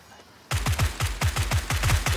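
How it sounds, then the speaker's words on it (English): Rapid bursts of automatic gunfire in PlayerUnknown's Battlegrounds during a squad firefight, a steady string of loud, punchy shots starting abruptly after a quiet moment and continuing without talk. "I'm getting shot at."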